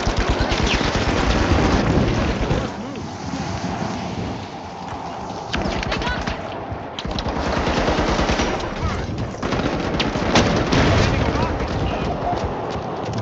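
Rapid automatic gunfire in The Finals video game, loud, dense bursts rattling almost continuously with brief lulls, under excited player voices talking.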